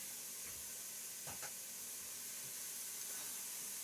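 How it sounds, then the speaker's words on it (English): Steady, faint sizzling hiss of food with chili powder frying in a pan, with a few soft clinks and taps over it. "while that's frying"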